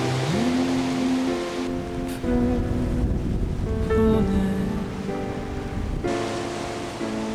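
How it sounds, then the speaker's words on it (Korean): Strong wind blows over rough sea waves in the Maenggol channel off a Korean island, a broad rushing noise under a calm narrating voice that continues throughout. "맹골 수역 사나운 파도를 깨우는 세찬 바람이 붑니다."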